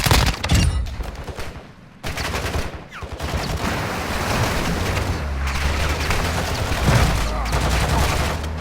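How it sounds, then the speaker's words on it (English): Call of Duty combat gunfire rattles in repeated bursts and crackles, mid-distance and fairly loud, against a steady rumble of vehicle and battle noise, with occasional voices. "I'm taking effective fire."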